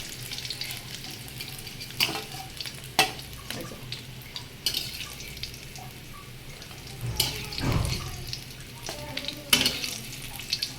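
Bitter gourd fries in a pan of oil with a soft, steady sizzle, broken by scattered clatters of stirring and a brief rush of water partway through, heard fairly close with no talk.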